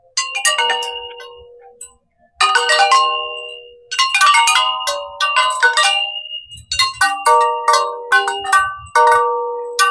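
A touch-activated planetarium exhibit gives out bright, plucked guitar-like tones in quick clustered bursts, separated by short pauses, with a faint low thud underneath in places.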